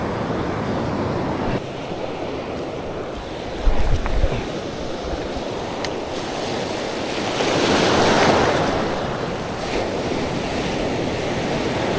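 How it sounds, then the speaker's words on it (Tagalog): Big ocean waves surge and wash continuously off Dinggalan, Aurora, along with wind rumble on the microphone and brief voices nearby. "Bago, laki ng alon."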